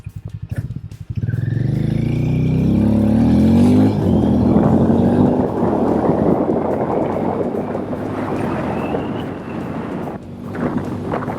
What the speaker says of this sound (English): Now let's start off with how the motorcycle accelerates, as I'm at a standstill right now.